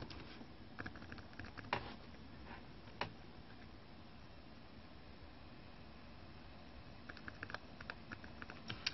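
Faint keystrokes tap on a computer keyboard while a password is entered, light irregular clicks over a quiet hiss with no talk.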